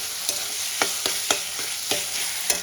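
Chopped tomatoes frying with ginger-garlic paste in a pan, a loud steady sizzle punctuated by about six regular spatula scrapes, close and without any talk.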